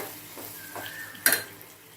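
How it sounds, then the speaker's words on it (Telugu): Tomato, green chilli and tamarind chutney cooks in hot oil with a soft sizzle, broken by one sharp clink of a stirring spoon against the pan near the end. "ఇలా ఒక అర నిమిషం ఇట్లా నూనెలో ఇలా మగ్గిద్దామండి"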